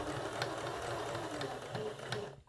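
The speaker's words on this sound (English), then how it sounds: "I'm just going to stitch all the way around, going through all of my layers, my backing, my batting," A sewing machine stitching around a small Christmas ornament through top fabric, batting and backing, an even mechanical hum with light rhythmic needle ticks, stopping just at the end.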